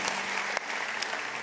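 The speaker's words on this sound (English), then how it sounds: "can we give our guests and our online audience a good hand clap today?" A church congregation gives a round of hand clapping for guests, a brief, steady, fairly close wash of many hands clapping together without pause.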